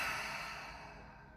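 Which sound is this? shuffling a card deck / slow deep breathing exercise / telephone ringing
slow deep breathing exercise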